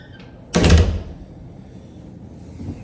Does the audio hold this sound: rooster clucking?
no